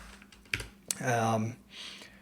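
A few sharp clicks come from a computer keyboard with a failing spacebar, set against a quiet room, and a voice briefly sounds between the keystrokes.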